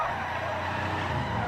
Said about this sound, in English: you'll survive the car crash